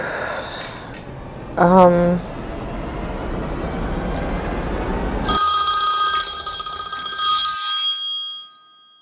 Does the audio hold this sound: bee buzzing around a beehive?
no